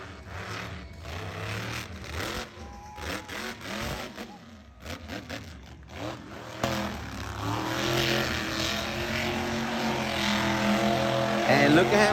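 Monster truck engine roaring at a fairgrounds show in Indio, California, revving and surging in bursts and then building to a sustained loud drone, with an announcer's voice over it and crowd noise around.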